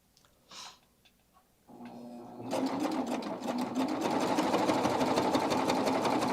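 A sewing machine stitches piping into the fold of fabric, starting after a few soft handling sounds and then running in a steady, rapid mechanical whir close by.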